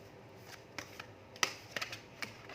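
Tarot cards shuffled by hand, a short run of soft, close riffling clicks and snaps over a quiet background.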